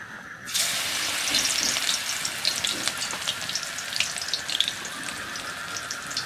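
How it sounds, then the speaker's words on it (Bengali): Helencha greens and coriander leaf pakoras sizzle and crackle steadily in hot oil, the frying bursting in loudly after a brief quiet start and continuing close and dense throughout. "এইভাবে আমি ভেজে নেব এই পকোড়াগুলো"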